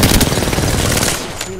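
Loud rapid gunfire in the video game Apex Legends, a dense burst of shots close up that fades slightly at the end.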